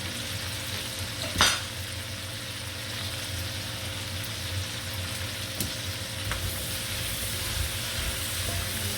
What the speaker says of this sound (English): Stir this around, and while those are deglazing